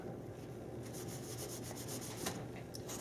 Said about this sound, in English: get some of that rubbing alcohol on it. Then you're going to just clean up the sticker mount, wipe it down